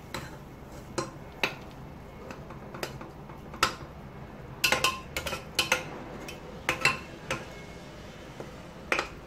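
A raw mango pickle is mixed in a pot with a spoon, giving irregular sharp clinks and scrapes of metal on metal that come in clustered bursts over a quiet background, with no voices.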